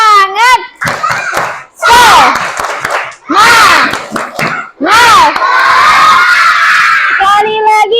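A group of schoolchildren shout the rhythmic 'tepuk semangat' clapping chant in a classroom, loud chanted voices alternating with bursts of quick synchronized claps, with an adult voice leading between rounds.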